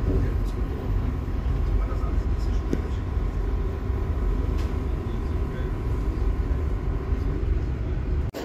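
Steady low rumble of a German regional express train running toward Saarbrücken main station, with rattling and faint squeals throughout, continuous and fairly loud.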